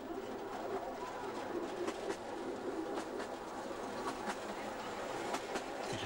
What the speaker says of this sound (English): you can catch a train like we're doing and ride it